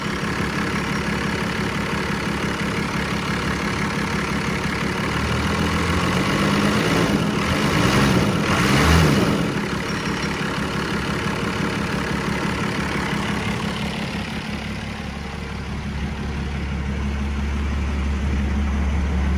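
A first-generation 12V Cummins diesel in a farm truck idles with a deep, steady clatter and rumble, close and continuous, briefly rising in pitch near the middle before settling back.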